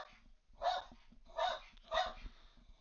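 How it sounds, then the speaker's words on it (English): A dog barks three times in quick succession, the sharp yaps spaced about half a second apart at moderate loudness, heard indoors during an online math lecture with no talking over them. "the dog's going nuts."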